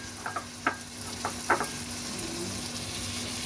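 Garlic and ginger fry in a pan with a steady close sizzle, broken by a few sharp crackling pops and light scraping, with no one talking.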